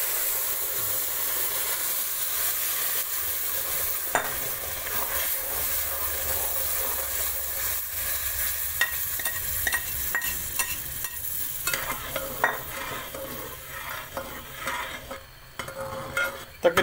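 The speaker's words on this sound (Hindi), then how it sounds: "जो हमने चीनी की चाश बनाई थी वो इसके अंदर ऐड करेंगे।" Roasted semolina for sooji halwa takes a pour of sugar syrup in a pan, giving a steady loud sizzle and hiss with spoon-scraping stirring throughout and sharper clinks near the end, with no voices.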